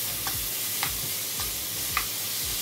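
Bean sprouts and thin pork belly with oyster sauce being stir-fried in a hot pan, a constant close sizzle broken by a few quick scraping stirs.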